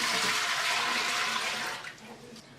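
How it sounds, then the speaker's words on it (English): Water is poured in a heavy stream into a cooking pot for lobster bisque, a loud steady gush close by that tapers off toward the end. "Next, we will add 2 quarts of water with 1 tablespoon of kosher salt"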